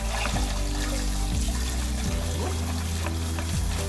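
Steady hiss of water spraying from a hose on a C7 Corvette Stingray, continuous and fairly close, over a low mechanical hum with occasional faint knocks.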